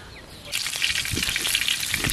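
Chicken pieces for paella sizzle loudly in a hot pan, a steady crackling fry that starts abruptly after a quieter moment and keeps going close up, with occasional stirring scrapes.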